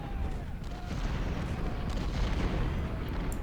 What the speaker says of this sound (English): It's essentially all just artillery.